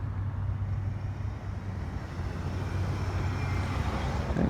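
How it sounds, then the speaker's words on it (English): Steady traffic rumble on 46th Street in the early evening, a low continuous wash of passing cars and heavier vehicles at moderate distance, with no talking. "And there's traffic on 46th Street."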